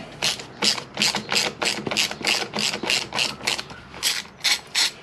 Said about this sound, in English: So we'll remove the two bolts for the brake caliper.